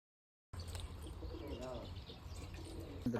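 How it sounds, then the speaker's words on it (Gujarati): A flock of pigeons cooing and fluttering outdoors at dusk, a soft low warbling coo rising briefly in the middle amid faint chirps, after a short silent start. "જો બધા કબૂતર ઉડે ને નહીં ખાય"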